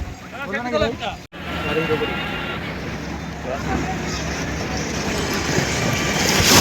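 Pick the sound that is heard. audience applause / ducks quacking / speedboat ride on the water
speedboat ride on the water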